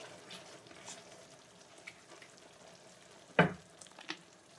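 Tteokbokki being stirred in a frying pan gives a faint, low sizzle and soft wet stirring, broken by one sharp scrape or clatter and a smaller one after.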